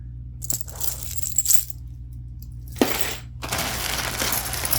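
Glass beads from a thrifted vintage jewelry mystery bag rattle and clink in short bursts, with a sharp chink near the middle and quiet gaps between pours.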